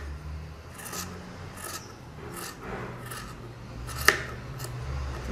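Scissors snip through fabric while a crop top is being cut out, giving five or six quiet, evenly spaced rasping cuts with one sharper snap near the end.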